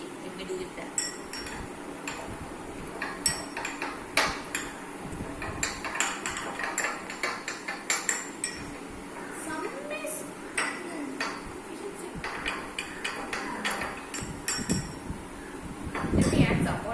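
Spoon stirring a mixture in a glass during a float-and-sink science experiment with soluble and insoluble substances, producing repeated clinks and scraping taps at an irregular pace, close by, with a voice speaking intermittently over it.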